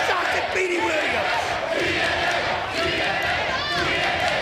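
A standing-room-only wrestling crowd at a TNA event roars and cheers steadily, loud and continuous, with scattered whistles and shouts rising out of the din.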